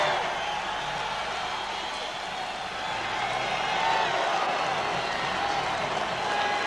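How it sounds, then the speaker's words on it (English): A large boxing arena crowd at the Michael Nunn vs James Toney fight keeps up a dense, steady roar of applause and cheering that fills the background evenly throughout. "Should hear a big sound of applause now."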